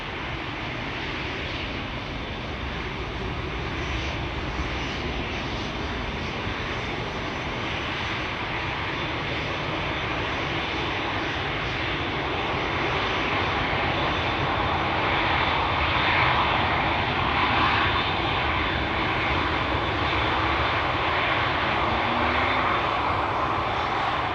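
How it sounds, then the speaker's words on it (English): KLM Boeing 787 Dreamliner widebody jet approaching at Schiphol Airport, a broad, even engine roar that swells gradually as it nears, heard from a distance with no voices. "a big fat KLM widebody is approaching from behind"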